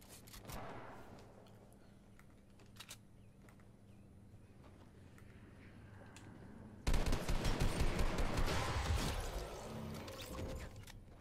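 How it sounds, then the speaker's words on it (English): Gunfire in Fortnite during a 2020 Halloween-event match: faint scattered shots in the background, then a loud burst of rapid, repeated shots that hits abruptly about two-thirds of the way through and continues to the end. "Wait, I heard a shotgun shot, though."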